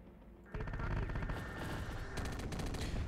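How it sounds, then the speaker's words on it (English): Sporadic gunfire in Terminator: Dark Fate - Defiance, a steady crackle of repeated shots at moderate distance, swelling into a dense, continuous volley after a quieter opening. "this sporadic fire coming down from over here might just kill him"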